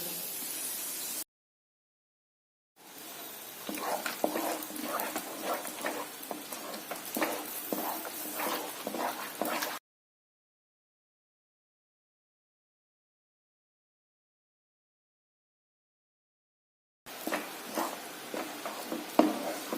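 Pumpkin halwa is stirred in a pan, producing soft scraping and faint sizzling in two separate stretches divided by silence.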